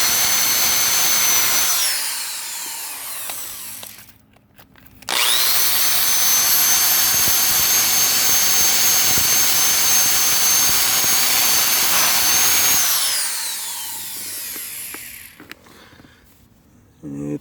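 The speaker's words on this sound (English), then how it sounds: "luckily I had this little sandpaper bit. It goes on the end of a drill." A drill spins a small sandpaper bit against old rubber inside a Mk3 Supra shifter, a loud steady high whine running for long stretches, stopping briefly near four seconds and easing off toward the end.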